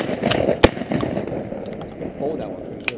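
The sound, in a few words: shotgun shot during duck hunting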